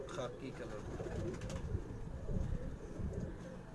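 Pigeons in a loft cooing softly, low murmuring calls close by under someone talking.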